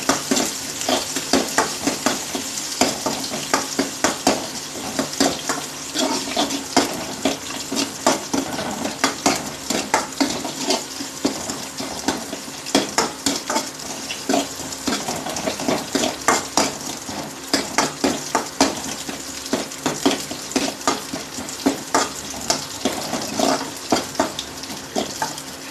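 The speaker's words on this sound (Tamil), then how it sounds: "வெங்காயம் நல்லா வதங்கின பிறகு வெங்காயம் நல்லா வதங்கட்டும்." Onions sautéing in a pan for Tamil-style tomato thokku, a steady close sizzle and frying crackle with frequent spoon scrapes and clinks against the pan throughout, no voices.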